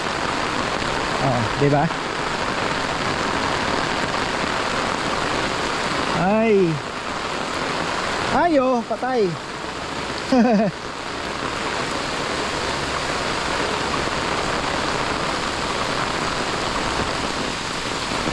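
Heavy rain falls in a steady, dense roar near a fish pond, continuing throughout, while people speak briefly over it.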